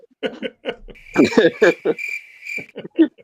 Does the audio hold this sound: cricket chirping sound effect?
yes